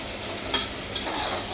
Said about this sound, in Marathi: चांगला जरा लालसर कांदा फ्राय करून घ्यायचा कुकरला